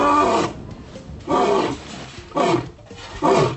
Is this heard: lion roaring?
yes